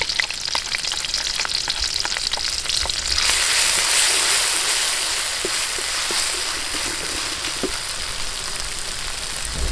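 Seafood clams cooking in a hot pan, a steady loud sizzle and frying hiss with scattered stirring clicks, growing brighter partway through, no talking.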